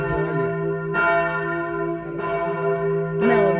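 A church bell in Alsace or Lorraine rings with steady, resonant strokes about once a second, each leaving a long humming decay that overlaps the next, clear and fairly close.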